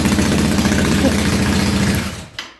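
A Royal Enfield Interceptor 650 fitted with a 2-into-1 stinger exhaust idles close by with a loud, throbbing rumble, then shuts off after about two seconds, leaving a brief clunk before silence.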